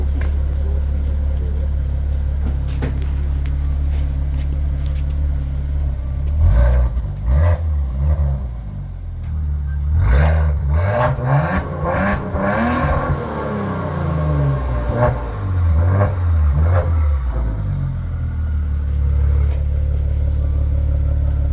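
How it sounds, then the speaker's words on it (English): A Maserati's engine revs repeatedly at close range, rising and falling in several throttle blips over a steady idle rumble, with a few brief sweeping surges in the middle. "I'm gonna give it a couple revs."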